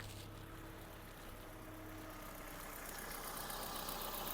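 A 2009 Volkswagen Touran 1.6 MPI engine idles quietly and steadily with a low hum and faint rhythmic ticking, and no voices.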